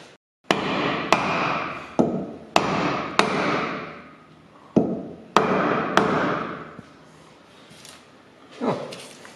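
Sharp hammer blows on a wood block during rear brake work on a Renault Megane 3, about eight strikes at uneven intervals, each a loud crack followed by a brief ringing decay.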